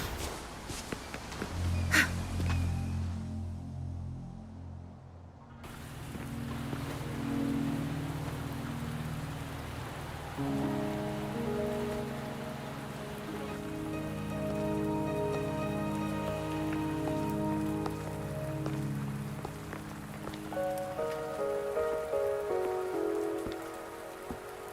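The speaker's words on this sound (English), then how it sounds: "Are you trapped here by the rain?" Rain patters steadily in the video game Wuthering Waves, a soft continuous wash beneath layered game music and tones, with a few sharp clicks early on.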